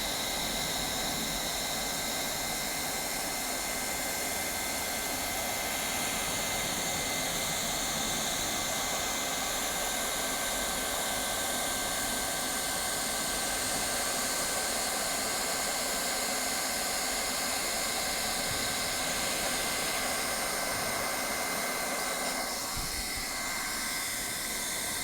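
A hot air welder blows a constant, loud, hissing rush of air to heat a flooring weld rod, running unbroken and close throughout, like a powerful hair dryer, with no talk.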